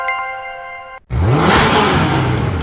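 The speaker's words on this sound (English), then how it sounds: "Jackpot, a Hennessy Venom GT" A Hennessy Venom GT engine revs loud and close after a short tonal chime, rising and falling in pitch as a continuous roar for about a second and a half.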